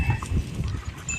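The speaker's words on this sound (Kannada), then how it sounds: "ನಮ್ಮ ಆಡುಗಳು ಇಲ್ಲೇ ಮೈಲಾಕತ್ತವು" Goats and sheep graze in a field beside an onion farm, giving brief close animal sounds and light rustling from the flock.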